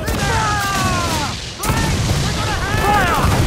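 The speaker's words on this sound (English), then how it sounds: "The cannon! Sir. We shot right through" Ship's cannons in Assassin's Creed 4 Black Flag fire in booming blasts with crashing impacts, heavy and close, while crew voices shout over the battle.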